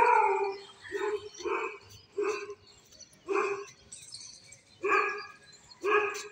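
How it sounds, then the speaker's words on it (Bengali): A dog barks repeatedly outdoors near a garden, about seven separate barks in an uneven rhythm, fairly close and clear against a quiet background. "জেম চিল্লাচ্ছে"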